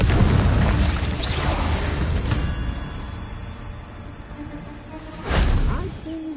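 An explosive Confringo spell goes off in a Harry Potter wizard-duel video game: a dense, rumbling blast that fades, followed later by a second sharp boom with a whooshing burst.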